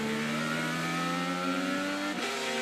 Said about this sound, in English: That's no good for the motor either when it over revs like that, because there's no control.